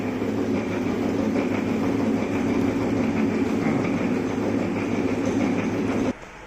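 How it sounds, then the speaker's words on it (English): A milling machine takes a down milling cut, giving a loud, steady, dense mechanical roar with a low hum that runs unbroken and then drops off abruptly near the end. "So this is the down milling operation."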